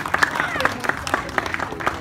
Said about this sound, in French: Allez, on applaudit plus fort que ça.